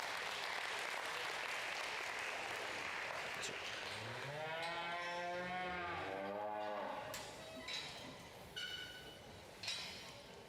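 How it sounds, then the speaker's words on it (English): Crowd applauds at a county fair heifer show, steady clapping filling the space while a cow moos loudly partway through and the clapping thins toward the end. "Let's give them both a big round of applause."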